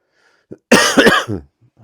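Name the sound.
cough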